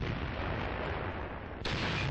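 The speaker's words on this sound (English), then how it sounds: "The Tigers stood their ground, their 88mm cannons booming" A deep, continuous battlefield rumble with a sharp booming blast near the end, like Tiger tanks' 88mm cannons firing in the distance.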